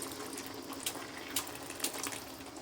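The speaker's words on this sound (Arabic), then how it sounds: "هنزود كده شوية من المية" Water poured into a cooking pot for rice kofta, a faint, continuous splashing trickle with a few small surges, close by and without speech.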